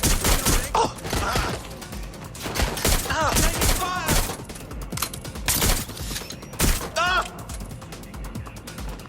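Gunfire in the video game Watch Dogs Legion: repeated bursts and single shots in a chaotic firefight, with impacts and game voices shouting among the shots.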